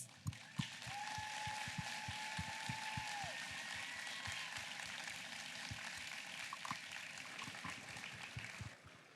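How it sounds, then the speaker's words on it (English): An audience at the GRITS 2025 event applauds volunteers, a sustained wash of clapping with a few sharper individual claps, moderately faint and heard in a large room. "Please join me in giving them a huge round of applause."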